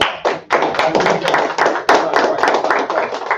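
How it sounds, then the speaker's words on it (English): A congregation at a Sabbath service in Atlanta claps together in a dense, continuous patter of many hands with some sharper accents, loud and close, with no talk over it. "clap it up for him"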